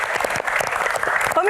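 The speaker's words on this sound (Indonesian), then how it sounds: "Tepuk tangan dong, teman-teman." Studio audience applauding on an Indonesian TV Q&A talk show, a steady dense clapping wash that runs continuously through the short stretch with a faint voice mixed in near the end.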